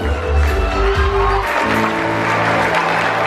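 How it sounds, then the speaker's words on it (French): Audience applause at the Miss France 2016 pageant in Tahiti, a broad wash of clapping and crowd noise that holds steady throughout, with music or tones under the opening moments. "Allez, on peut faire vivre les applaudissements s'il vous plaît"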